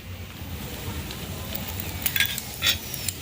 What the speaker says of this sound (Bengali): এবার তেল দিয়ে দেব।